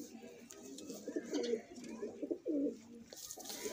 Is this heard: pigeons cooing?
yes